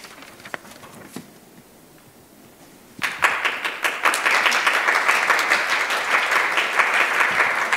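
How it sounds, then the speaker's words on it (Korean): Scattered claps and light room noise give way, about three seconds in, to a full burst of audience applause at a conservative forum on Korean reunification, continuing dense and even to the end. "다시 한번 큰 박수 부탁드립니다."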